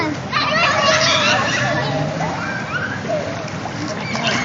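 Water splashes and sloshes amid lively children's voices and chatter, a busy, close wash of noise with shouts rising over it.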